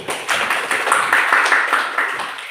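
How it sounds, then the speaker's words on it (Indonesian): A class of fifth-grade pupils claps together in a school religious education lesson, a dense burst of many small hands patting for about two seconds at steady loudness, with a few voices mixed in. "tepuk tangan dulu"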